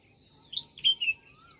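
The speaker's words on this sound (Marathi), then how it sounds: "कसला भारी पक्षी." A single bird calling in a garden, a short run of three or four thin, high chirping notes over about a second, fairly close, against near silence.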